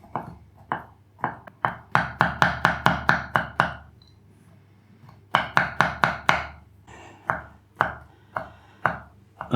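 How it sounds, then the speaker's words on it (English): A knife chops cornichons on a cutting board: quick runs of crisp, close taps, several fast rhythmic bursts of eight or so strokes separated by brief pauses and slower single cuts, with no talking. "And now we'll chop the cornichons."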